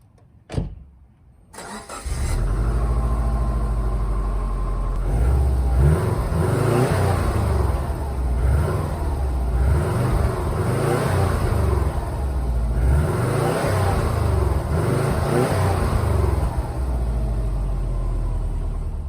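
A Subaru WRX turbo engine turns over and starts, then revs and accelerates hard with a loud, rising and falling rumble that sweeps up through the gears.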